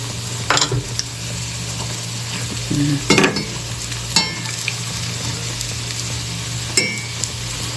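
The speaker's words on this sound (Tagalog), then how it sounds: "Tapos natira tayo, nag-fry tayo ng ating vegetables." Vegetables sizzle steadily in hot oil in a pan, a continuous close frying hiss broken by a few stirring scrapes and clinks of a utensil against the pan.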